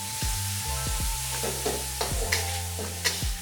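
Bean sprouts and Hokkien noodles being stir-fried with seasoning for Malaysian mee goreng, a continuous sizzle broken by repeated spatula scrapes and clanks against the wok at an irregular rhythm.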